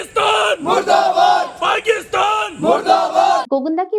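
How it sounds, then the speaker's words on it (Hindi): A large protest procession in Gogunda, India chants slogans. Many voices shout in loud rhythmic unison, rising and falling in repeated bursts of crowd chanting. "वे हिंदुस्तान जिंदाबाद और पाकिस्तान मुर्दाबाद के नारे लगा रहे"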